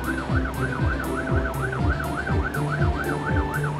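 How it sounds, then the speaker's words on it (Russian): A fire truck siren wails in a fast repeating up-and-down warble, loud and close, with an electronic yelp cycling steadily over a low engine hum. "Когда пожарная машина едет на вызов, она включает сирену."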